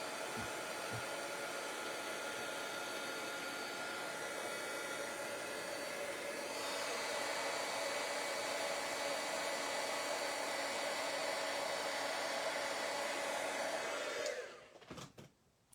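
A heat tool blows a steady, loud hiss while melting embossing powder on a Christmas card for a stamping craft project. It runs alone for about fourteen seconds, then cuts off abruptly.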